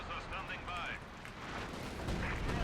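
Artillery shells slamming into units in the World War II strategy game Company of Heroes 2, a rumbling series of muffled blasts under a commentator's talk.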